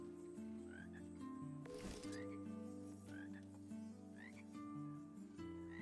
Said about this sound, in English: So many frogs sitting in a circle.